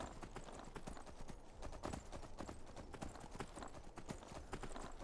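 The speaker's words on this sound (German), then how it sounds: "Oh, dieses Pferd ist ganz schön langsam," Horse hooves clip-clop in a steady, brisk rhythm during Skyrim gameplay, a moderately loud run of close hoof strikes continuing without a break and without talk.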